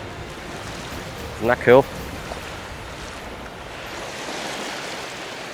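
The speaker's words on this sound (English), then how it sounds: "Oh my god, big waves." Big ocean waves surge and break at Spanish Point on Ireland's west coast, a steady wash of surf close by, with someone briefly speaking over it.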